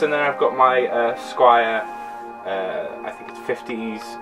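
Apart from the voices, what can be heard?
No everyday noise stands out behind the speech.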